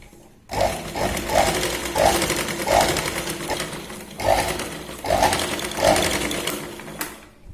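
A sewing machine runs stitching a Katori blouse, its motor whirring in repeated bursts of rapid stitching separated by brief pauses, close and fairly loud with no voices.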